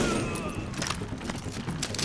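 Gunfire in The Division, a dense run of shots and muffled impacts rolling together at steady loudness, with no clear gaps between bursts.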